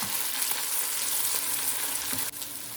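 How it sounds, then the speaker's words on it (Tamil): Tomato and curry leaves sauté in a hot pan for Kerala-style fish curry, giving a steady, close sizzle and frying hiss with a few stirring scrapes and no voices. "அது கொஞ்சம் நல்லா மேஷ் ஆகிற வரைக்கும் வதக்கி விட்டுக்கோங்க"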